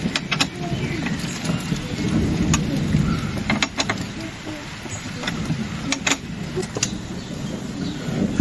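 Rain falls outdoors in a garden in Germany while solar panels are being set up, a steady broadband hiss with scattered sharp taps on surfaces lasting throughout.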